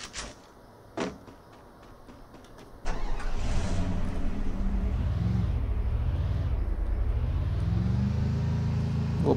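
A car in the Free Fire video game drives past: after a few quiet seconds with light clicks, a loud engine roar cuts in and holds steady to the end, its pitch rising and falling as it moves.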